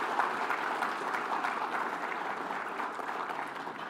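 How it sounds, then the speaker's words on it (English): A gala audience applauds award winners in a soft, even, steady patter of many hands that stays at a moderate level for a few seconds. "give you a round of applause"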